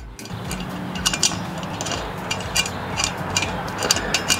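Metal screws are pushed into place one at a time while assembling a Pellethead Lil Poboy pellet grill, giving light clicking and ticking contacts spread irregularly over a low steady background hum.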